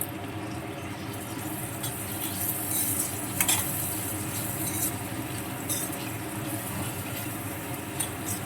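Tomato being stirred into sizzling chicken curry with ginger-garlic paste and turmeric in a pan, giving a steady frying hiss with soft stirring scrapes and one brief sharper clink, close and continuous.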